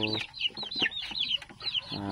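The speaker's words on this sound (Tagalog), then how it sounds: "Meron tayong manok dito" Bantam chickens on a farm cluck and chatter close by in quick, overlapping calls, with a few squawks rising above a busy flock at feeding time.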